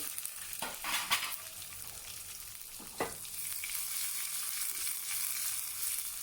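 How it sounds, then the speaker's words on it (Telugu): Chopped green chillies drop into hot oil with spluttering mustard seeds while cooking a buttermilk rasam, giving a loud steady sizzle and hiss with a couple of sharp pops and a brief clink of a utensil. "ఆవాలు చిట్టుపట్టలాడిన తర్వాత కట్ చేసుకున్న పచ్చిమిర్చి వేస్తున్నానండి"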